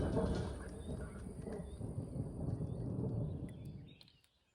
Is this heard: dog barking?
no